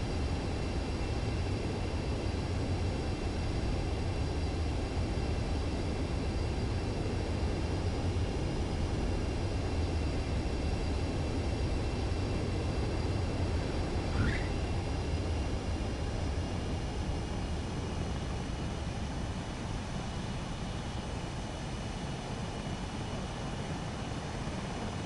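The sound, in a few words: jet aircraft approaching runway in Ace Combat video game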